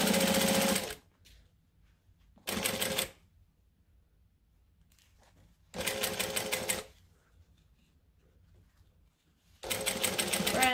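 A sewing machine stitches fabric while a zipper is sewn in, running in four short, loud bursts separated by quiet pauses with faint handling noise between runs.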